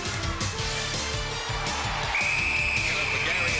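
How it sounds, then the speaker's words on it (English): A referee's whistle sounds at a UK Gladiators event, a steady high tone arriving partway through and holding to the end over loud crowd noise, music and commentary. "the whistle's blown. That won't count."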